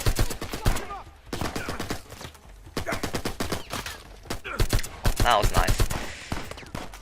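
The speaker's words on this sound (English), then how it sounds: "And that log is completely being shot up." Rapid bursts of gunfire in Uncharted 4 shred a log and chip rock during a combat sequence, with sharp repeated shots in clusters over game effects and voices talking throughout.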